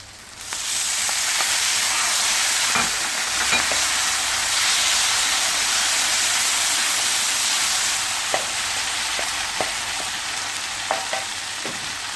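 Lamb saç tava with tomatoes and spices sizzles and fries loudly in the pan, a constant close hiss broken by occasional stirring clicks and scrapes, with no talking.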